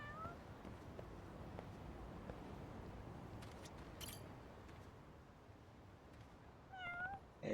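A cat in the video game Lost Judgment meows several times, faint at the start and again near the end, over quiet ambient game background.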